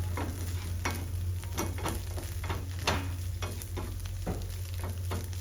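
Minced meat fries in a pan with a steady close sizzle, punctuated by repeated scraping stirs of a utensil, with a low constant hum beneath and no talking.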